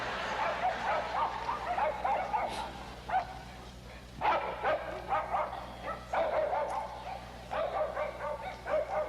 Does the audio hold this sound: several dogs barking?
yes